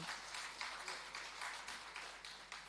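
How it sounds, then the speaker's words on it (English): An audience at a rural women's agricultural display and media launch in Jamaica claps in a steady, faint round of applause that lasts throughout. "A round of applause again for him"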